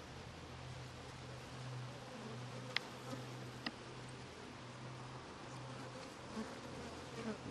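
Honey bees buzzing around an open hive, a steady close droning hum of many insects with a few faint clicks and taps of hive frames, no talking.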